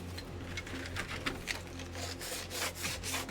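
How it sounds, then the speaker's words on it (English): Sandpaper rubbed back and forth over a wooden piece to shave it down, giving a soft, steady, close scratching that runs continuously with no talk. "We're just going to do that with the sandpaper."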